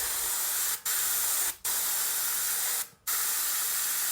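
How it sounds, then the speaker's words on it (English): Three short bursts of spray paint hiss through a stencil onto a pumpkin seed, each a steady, loud spray broken by brief pauses, with no voices. "I'm just gonna go above those dots a little bit and spray this this stencil here"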